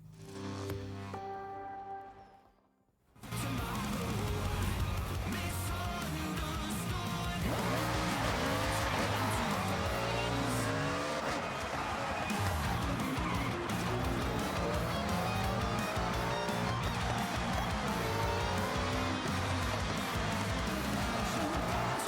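A Porsche driven in the Forza racing video game gives a steady, loud engine drone with revving and tire noise, shifting pitch as it accelerates and turns, after a brief quiet gap at the start.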